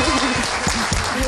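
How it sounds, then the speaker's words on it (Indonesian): Brief burst of live audience applause at a stage show with Tantowi Yahya performing for an American crowd; dense, steady clapping fills the whole moment with faint tonal hum beneath. "Tepuk tangan buat mereka berdua."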